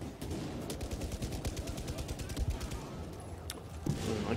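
Rapid automatic gunfire in the video game Battlefield 4 rattles in steady bursts over a dense battle din, with a player talking over it.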